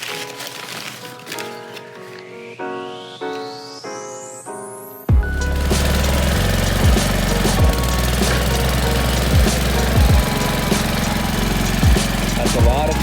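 A tractor engine running loud and close, a steady rough idle with rhythmic knocking pulses, which starts abruptly after a stretch of musical tones and rising sweep.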